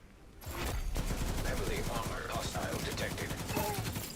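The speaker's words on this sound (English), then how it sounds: "we can pre-fire, for instance, just to get some stacks going" Continuous rapid gunfire from a weapon in a shooter game, a sustained fusillade of dense, steady shots lasting about four seconds at moderate loudness, with some talk faintly underneath.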